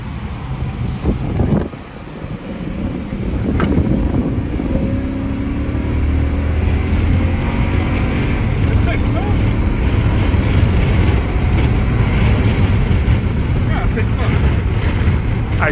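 Vehicle flooring it on a freeway, engine note and road and wind roar rising after a brief dip and holding loud and steady inside the cabin.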